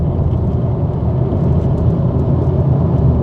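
A 1-litre three-cylinder car engine drones steadily at full throttle, a dense, continuous low rumble with no breaks for the whole stretch.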